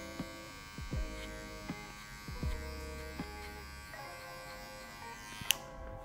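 Electric hair clipper buzzing steadily while cutting a fade, a close, even motor drone with faint tonal hum and small bumps as it moves through the hair.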